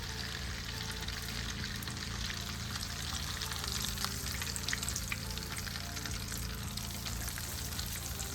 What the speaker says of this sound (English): we're gonna start frying up our clams